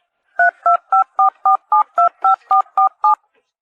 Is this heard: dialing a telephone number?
yes